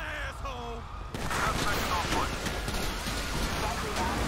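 Dense, rapid gunfire in the GTA V video game, a loud continuous crackling barrage that starts abruptly after a moment of speech and keeps up for several seconds.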